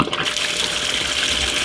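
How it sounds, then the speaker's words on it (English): Water from a tankless hot water heater flows out of an outlet pipe sticking out of a wall, a loud, steady gushing rush that stays close and constant throughout. "The water actually flows out of this pipe that sticks out of the wall here"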